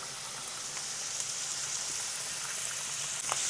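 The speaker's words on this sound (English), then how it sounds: "now I hear the sizzle" Scallops sizzle steadily in a hot pan with oil and butter, a constant crackling hiss with small pops, close by and without speech.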